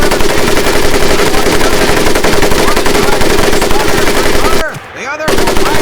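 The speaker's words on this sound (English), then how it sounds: "Now here we have my personal favorite, the M19 30 caliber machine." An M1919 .30 caliber machine gun fires in Medal of Honor Pacific Assault, a loud continuous burst of rapid shots that breaks off briefly near the end before resuming.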